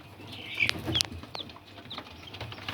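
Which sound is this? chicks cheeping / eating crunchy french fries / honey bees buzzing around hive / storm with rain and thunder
chicks cheeping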